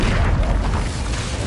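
An Incendio fire spell is cast in the video game Hogwarts Legacy, a loud, dense roaring whoosh of flame lasting under two seconds.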